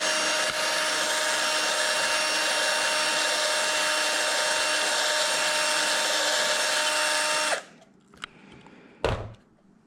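A drill bores out holes in a DeatschWerks DW400 dual fuel pump module, a loud, steady whine that runs unbroken for about seven and a half seconds before stopping abruptly, followed by a few brief knocks.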